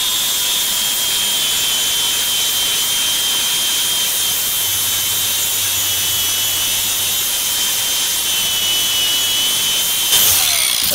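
A power sander grinds across a custom-built wooden deck with a loud, steady, close hiss and hum that continues unbroken for the whole stretch, with no voices.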